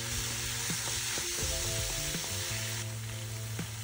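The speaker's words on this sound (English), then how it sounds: "Stir in the mixed vegetables and cook for a few minutes until tender." Garlic, crumbled tofu and mixed vegetables sizzle steadily in a hot pan, a constant frying hiss with occasional clinks and scrapes of stirring, close and alone without talk.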